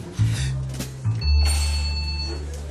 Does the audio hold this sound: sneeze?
no